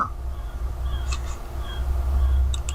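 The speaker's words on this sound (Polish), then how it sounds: "Ptaki, ptaki, ptaki, ptaki, wszędzie ptaki." Crows caw a few times, faint and brief, over a steady low rumble in the horror video game Rise of Insanity.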